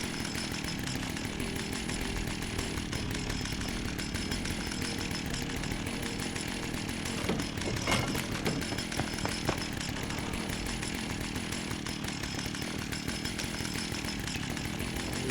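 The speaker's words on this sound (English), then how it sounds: "Gotta take this chainsaw too." A chainsaw in the video game Fallout 76 runs in a steady, loud, continuous buzzing drone for about fifteen seconds, with no talk over it.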